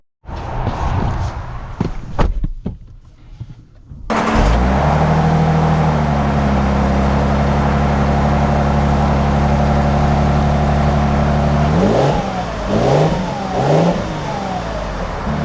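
A 2025 Lexus LX 600 SUV pulls away and accelerates after some faint rustling, its engine settling into a steady loud drone, then rising and falling in a few revving surges toward the end.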